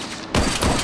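A sudden burst of gunfire erupts in Tesla Effect: A Tex Murphy Adventure, a rooftop shooter firing down from atop an electronics shop; a sharp loud crack after a brief lull, followed by a continuing rattling volley.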